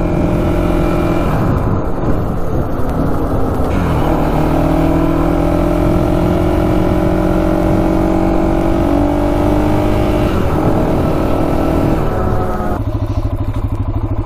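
A Honda 400ex ATV ridden at easy throttle, its engine droning steadily and close with a few shifts in pitch as the rider eases on and off, rough and continuous throughout.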